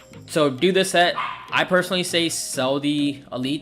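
Several dogs bark in excited, repeated yips outside, mixed in beneath someone talking close by.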